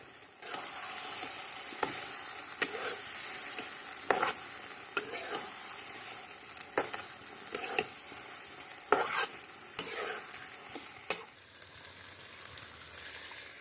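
Boiled vegetable stalks are stirred into masala frying in a pan, with a steady close sizzle broken by repeated scraping spatula strokes at an uneven rhythm.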